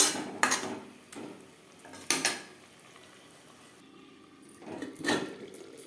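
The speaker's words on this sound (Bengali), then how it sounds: "লাউড ডাটার সাথে ও মটরশুঁটির সাথে আলু বেশ ভালো করে মিক্সড করে দেবো" A spoon stirs potatoes with bottle gourd stems and peas in a cooking pan, giving a few sharp metallic clanks and scrapes with quiet gaps between them.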